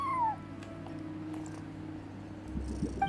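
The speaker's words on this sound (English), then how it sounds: "No one except for a cat watching over the front desk." A cat in Genshin Impact gives a short, fairly quiet meow at the very start, followed by low ambient hum and faint indoor background sounds.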